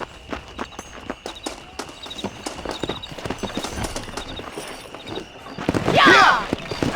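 Horse hooves clip-clop at a riding pace in the video game Red Dead Redemption, a steady run of hoofbeats under game ambience, with a voice shouting near the end.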